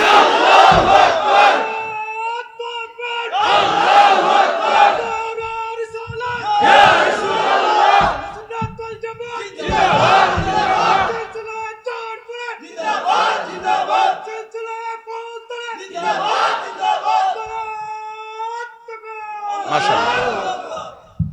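A large crowd at a Bangladeshi madrasa religious gathering roars Allahu Akbar again and again in reply to a Takbir call, loud rhythmic shouted chants repeating in bursts for about twenty seconds.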